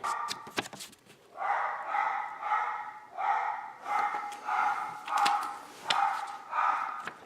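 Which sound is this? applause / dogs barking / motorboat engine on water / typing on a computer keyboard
dogs barking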